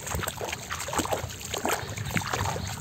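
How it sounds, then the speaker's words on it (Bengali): A wooden country boat is shoved along a village river by hand, giving a steady wash of water swishing and trickling against the hull, close and continuous with faint wind noise. "ধাক্কা দিয়ে নৌকা নিতে আছে"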